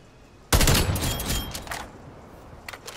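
A primary rifle in a Cold War shooter fires a sudden loud burst of rapid shots, then a few fading rattles and scattered single shots, close and without talk.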